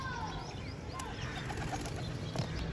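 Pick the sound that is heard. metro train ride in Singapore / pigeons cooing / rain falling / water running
pigeons cooing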